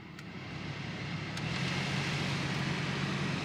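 Heater blower fan in a Nissan 240SX (S13) running at speed: a steady, broad whoosh of air that builds slightly and holds, with no talk over it.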